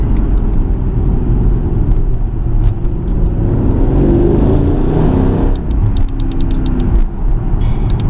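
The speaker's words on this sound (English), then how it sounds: "you can blip the throttle on the downshift to get the perfect shift." Loud, close engine rumble of a Mercedes-AMG with an M113K engine, rising and falling as the throttle is blipped, with a steady low roar throughout.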